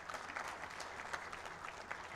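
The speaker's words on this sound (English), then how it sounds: "So please, you can clap for President Museveni for that." An audience at a business forum claps for President Museveni, a steady patter of hands that sounds faint and somewhat distant, with no voices over it.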